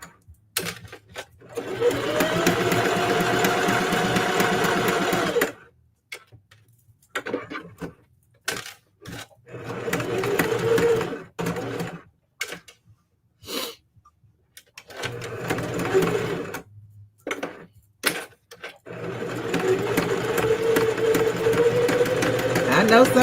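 A Singer HD sewing machine stitches a wide zigzag on scrap fabric, its motor whirring loudly in repeated bursts of varying length separated by short silent pauses.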